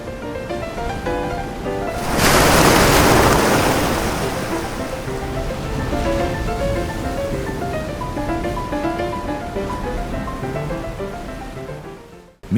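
Ocean waves surge during a tsunami, with a loud broadband rush of churning water peaking early and then settling into a steady roar beneath continuous music.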